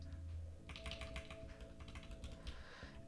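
Quiet, rapid typing on a computer keyboard while renaming a markdown file, a close run of soft key clicks lasting about two seconds over faint background hum.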